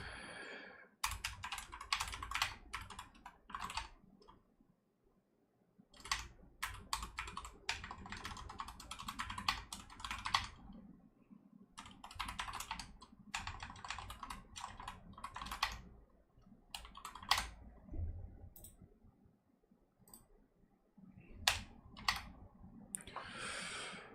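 Typing on a computer keyboard in bursts of rapid clicking keystrokes with short pauses between, close and fairly quiet, with no talking.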